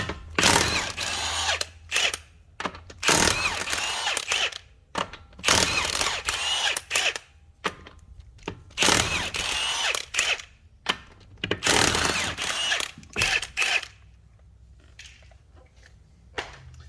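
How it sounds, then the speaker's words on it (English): An impact gun zips off 19 mm lug nuts from a 2003 Subaru Forester wheel, giving several loud, close bursts of whirring and rattling, each a second or two long, split by short quiet gaps. "So now I'm going to go ahead and take off my lug nuts. Those are 19 millimeters."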